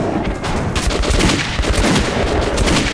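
Dense, loud video game gunfire in Metro 2033 Redux, overlapping rapid shots and booms filling the whole stretch without pause, no talking.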